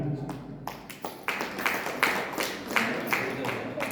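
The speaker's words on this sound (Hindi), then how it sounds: "एक बार भक्तों के लिए तालियां।" Audience clapping for devotees at a Shiv Mahapuran religious discourse, a dense, steady wash of many hands with sharper bursts rising and falling over four seconds, fairly close and loud.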